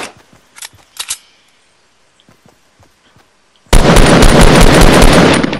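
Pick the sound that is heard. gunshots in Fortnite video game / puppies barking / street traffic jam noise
gunshots in Fortnite video game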